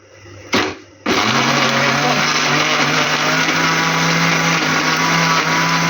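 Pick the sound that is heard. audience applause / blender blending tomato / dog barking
blender blending tomato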